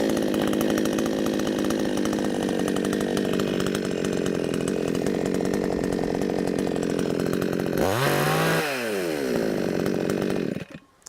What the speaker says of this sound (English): Holding the saw firm with a straight arm, grab the starter cord and pull sharply.